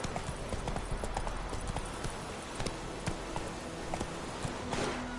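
Roach the horse in The Witcher 3 moving at a rapid clip-clop of hooves, steady and continuous, close and prominent against a game background, with no talk.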